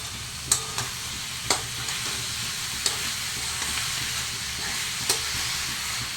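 Cut, washed mushrooms drop into a hot pan for a mushroom curry, bringing a steady close sizzle and frying hiss with a few sharp stirring clinks scattered through, and no voices.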